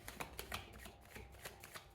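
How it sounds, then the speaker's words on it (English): Tarot cards riffle and slap together in a quick, close shuffle, a series of crisp flutters and soft taps over about two seconds, alone without speech. "Final shuffle."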